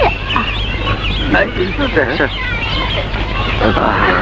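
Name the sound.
chicken clucking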